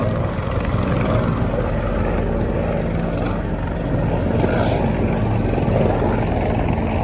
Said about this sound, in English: It's a plane going by.